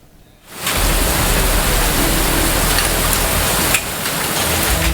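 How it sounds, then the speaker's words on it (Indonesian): Heavy rain pours down in Menteng, Central Jakarta, with hail and strong wind, a dense, steady roar that starts abruptly and stays loud throughout. "Hujan deras disertai angin kencang dan butiran es terjadi di wilayah Menteng, Jakarta Pusat."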